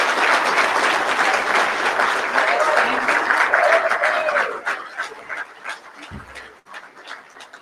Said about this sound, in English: give all of these gentlemen another round of applause